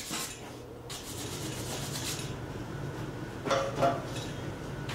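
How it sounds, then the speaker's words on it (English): A swing bike frame built from junk has its welds ground down, giving a steady, moderately loud rasping grind that runs through the whole stretch, with a couple of brief sharper scrapes near the end. "I mostly stay focused on grinding on the welds."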